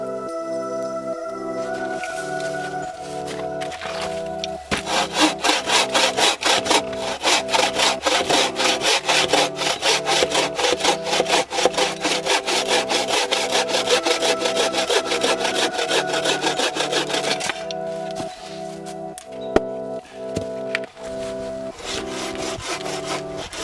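A hand saw cuts through pine wood in a fast, steady rhythm of strokes for about thirteen seconds, loud and close, with quieter handling before and after.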